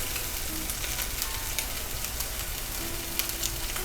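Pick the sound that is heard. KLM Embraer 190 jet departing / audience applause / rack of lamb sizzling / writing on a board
rack of lamb sizzling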